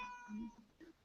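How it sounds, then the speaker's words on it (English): A house cat gives a single short meow, fairly faint and close, lasting about a second and heard on its own. "Sorry about the cat."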